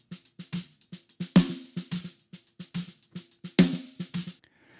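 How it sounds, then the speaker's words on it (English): A dry snare drum plays alone in a steady groove: quiet ghost-note taps around two sharp, loud backbeat cracks, each hit short and tight. "listen to the snare drum by itself dry"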